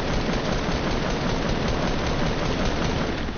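Dense, steady video-game gunfire from a battle-royale shooter, a continuous loud rattle of shots blended with engine-like rumble, no voices.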